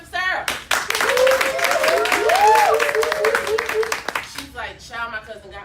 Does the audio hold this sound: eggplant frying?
no